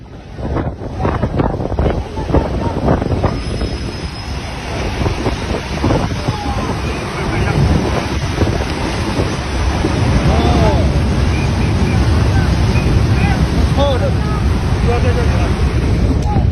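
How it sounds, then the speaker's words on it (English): A glacial lake outburst flood, a massive torrent of gray, sediment-filled water, rushes down a narrow valley after an ice dam breaks, making a loud, continuous roar with wind buffeting the microphone. "a massive torrent of gray, sediment-filled water rushing down the narrow valley"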